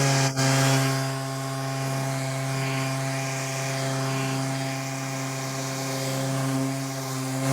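An electric sander at power setting 3 works over an old wardrobe, giving a continuous steady motor whine with strong even harmonics and a gritty abrasive hiss, close and unbroken apart from a brief click at the start.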